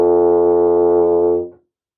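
A trumpet holds one steady, loud sustained tone for about a second and a half, then releases it cleanly into silence, as the opening of a technical exercise.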